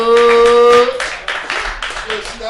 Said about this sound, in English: I appreciate the claps.